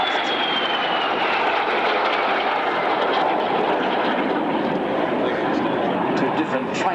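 Two trainer aircraft flying in a duo at the Avalon Airshow, a steady loud engine roar with a slowly falling whine as they pass, under continuous commentary from an announcer.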